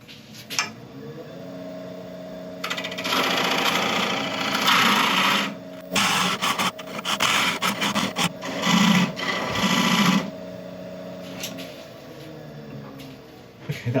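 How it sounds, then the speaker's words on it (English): A woodturning scraper cuts a dovetail recess into a spinning workpiece on a lathe, giving a steady motor hum with bursts of harsh scraping and rasping that come and go over about fourteen seconds, close and fairly loud. "So I'm just going to come in with this scraper and cut this dovetail here."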